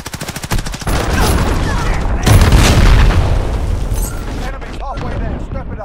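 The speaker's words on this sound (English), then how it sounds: "Enemy cruise missile incoming." A cruise missile explodes in Call of Duty: Modern Warfare, a heavy booming blast that rolls under continuous gunfire and battle noise, with radio-style voices talking throughout.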